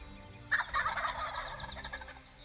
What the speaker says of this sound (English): These birds will gobble on the roost in the dark